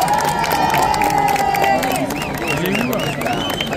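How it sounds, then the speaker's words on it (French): A crowd of spectators lines a Paris avenue near the Hôtel de Ville as Yannick Noah carries the Olympic flame, a dense roar of cheering and clapping filling the air, with whistles and shouts rising through the steady din. "Et Yannick Noah sous les applaudissements du public."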